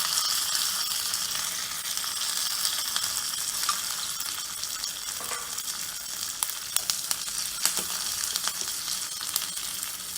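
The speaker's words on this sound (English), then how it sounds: "I'm going to add a nice tadka now, along with 1 slit green chili and some curry leaves and mustard and cumin seeds" A tadka of slit green chili, curry leaves, mustard seeds and cumin seeds sizzles steadily in hot oil for rasam, a continuous close frying hiss with scattered crackles and pops toward the end.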